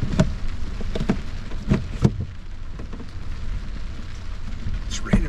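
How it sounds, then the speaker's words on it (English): Steady rain pours down continuously during a thunderstorm while camping in a truck, with a few sharp cracks and low rumbles mixed in; no voices. "It's raining pretty good out there."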